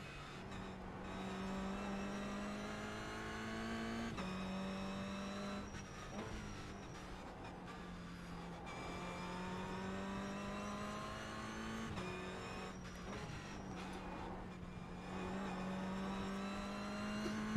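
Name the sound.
race car engine revving in a sim racing video game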